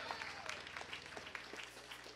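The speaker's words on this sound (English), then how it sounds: "Come on and give God a hand clap of praise." A Missionary Baptist church congregation claps in praise during Sunday morning worship, a steady ripple of hand claps with a low hum beneath and faint voices mixed in.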